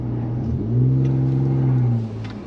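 A Ford F150 twin turbo with aftermarket parts and 150,000 miles revs up loudly for about a second and a half, a steady rising engine drone up close, then settles back toward idle.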